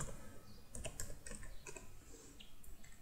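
Rapid typing on a computer keyboard while building an HTML registration form, with quiet, close, irregular key clicks coming in short bursts and no voices.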